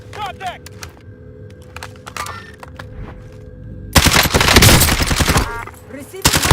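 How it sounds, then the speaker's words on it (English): Rapid automatic gunfire in the video game Watch Dogs Legion, erupting into a loud sustained burst of shots after a quieter stretch with scattered game sounds and brief talk. "Taking fire over here."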